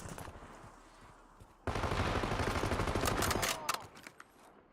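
Warzone video game gunfire erupts loud and sustained in rapid automatic bursts after a quieter opening, then breaks into a few scattered sharp shots as it dies down, with a voice reacting in the background.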